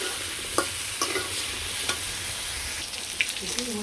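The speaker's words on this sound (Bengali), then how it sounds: "এই যে মাছ ভাজি নামানোর পরে সবজিগুলো দিয়ে দিলাম।" Vegetables sizzle steadily in a hot pan that was just used to fry fish, with a constant frying hiss broken by occasional clicks of a spoon stirring, on a village cooking fire.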